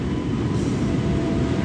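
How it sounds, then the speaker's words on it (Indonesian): Saunggali passenger train departing Kroya station, a steady low rumble of rolling stock that holds at an even level throughout with no voices. "kereta api Saunggali diberangkatkan dari stasiun Kroya ke tujuan akhir stasiun Pasar Senen"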